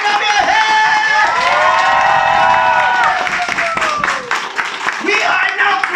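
A training-event audience claps and cheers loudly together, a dense sustained roar of applause and shouting voices filling the room, with the crowd noise continuous throughout.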